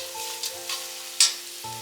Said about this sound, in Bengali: তারপর দিয়ে দিলাম বেশ খানিকটা রসুন আর একটুখানি আদা। এবার এটাও একটু নেড়ে চেড়ে নিচ্ছি।